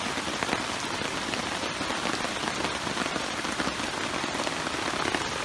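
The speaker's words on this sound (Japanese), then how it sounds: "雨が。" Sudden rain pours down steadily at a campsite, a dense, continuous hiss of drops drumming on surfaces nearby with no letup, loud and unbroken throughout.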